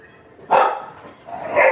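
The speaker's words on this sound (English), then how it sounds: "that's my dog barking." A dog barks twice indoors in a home kitchen, each bark loud and close, with a short pause between them.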